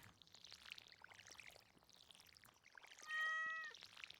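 A pet cat in the video game Stardew Valley gives one short, clear meow when petted, rising out of a soft ambient farm backdrop near the end.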